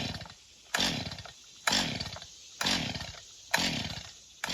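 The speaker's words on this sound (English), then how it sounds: "If only I can get this silly chainsaw to start." Chainsaw being pull-started outdoors, four sharp rope pulls at roughly one-second intervals, each followed by a brief sputtering engine turnover that dies away without catching, loud and close.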